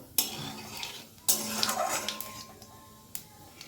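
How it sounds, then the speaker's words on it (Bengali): Half a spoon of black cumin hits hot oil for a tempering and gets stirred, with a sharp clank of a spoon on the pan, a soft sizzle, then more scraping and a couple of light taps. "ওই একই তেলের মধ্যে আমি দিয়ে দিলাম হাফ চামচ কালো জিরে ফোড়নটা একটুখানি নেড়ে নেব"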